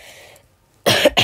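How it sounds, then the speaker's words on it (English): A loud, close cough in two quick bursts, a harsh main burst and a shorter follow-up, after near silence, from a person livestreaming while drawing a Gorilla Tag gorilla. "My bad, coughed."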